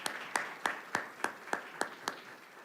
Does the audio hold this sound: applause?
yes